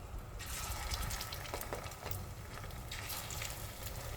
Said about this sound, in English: I'm just going to add the eggplant one at a time into the oil